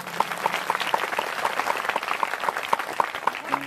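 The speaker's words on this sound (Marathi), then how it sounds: "या लेकरांसाठी एकदा टाळ्या वाजवा" An audience at a devotional Bhagavat katha event in a Maharashtra village claps together in sustained, steady applause, dense and fairly near, with faint murmurs beneath.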